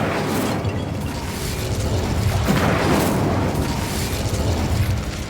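Bombarda spell blasting apart a barricade in the Hogwarts Legacy video game, a dense rumbling burst of explosive noise with crumbling debris that swells around the middle and lingers as a heavy roar.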